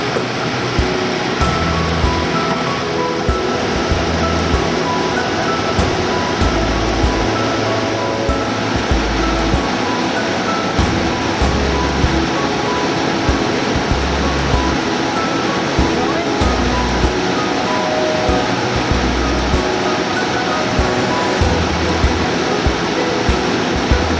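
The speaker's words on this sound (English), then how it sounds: "there's 3-4 waterfalls cascading down the side here." Steady roaring rush of several waterfalls cascading down the side of a gorge, a broad continuous wash with low rumbling underneath and no pauses.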